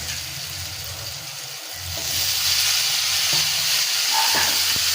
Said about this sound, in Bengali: এবার আমি আলুগুলোর মধ্যে ভেজে রাখা ফুলকপিগুলো দিয়ে দেবো